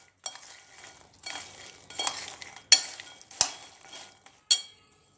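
Microwave-roasted foxnuts (makhana) are stirred in a bowl with a spoon: several separate scraping, rattling strokes, close and fairly quiet, with short pauses between them.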